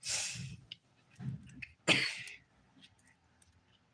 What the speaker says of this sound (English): Still coughing though.